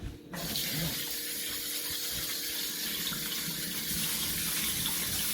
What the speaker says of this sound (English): while the water drains out as we spray it